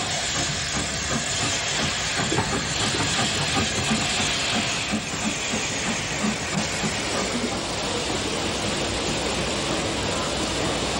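An L12 class 4-4-0, No. 424, pulls into Sutton with the Portsmouth train while an E4 class 0-6-2 tank stands in the goods yard; a steady, loud steam hiss and rolling rumble runs throughout with no voices.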